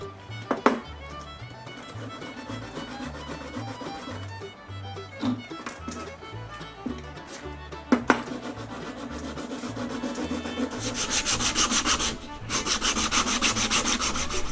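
Primer being sanded on a homemade cast cylinder head for a Honda Monkey engine converted to four cylinders, with rhythmic rubbing strokes close up, a few knocks, and brighter, faster scraping toward the end.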